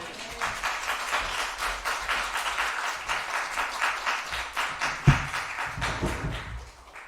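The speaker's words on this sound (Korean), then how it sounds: "우리 아멘으로 크게 또 큰 박수 소리로 함께 맞이해 주시면 감사하겠습니다" A church congregation at a Baptist prayer meeting claps in loud, dense, sustained applause to welcome a pastor, with a single sharp thump near the end before the clapping tapers off.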